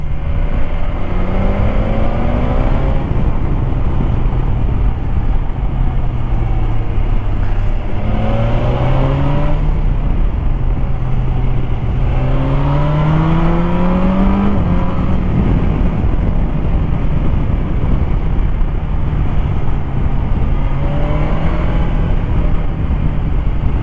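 A 2020 BMW S1000XR motorcycle engine pulls hard through the gears with a quick shifter, revs rising and dropping in repeated sweeps as each shift lands, close and loud under steady wind rush.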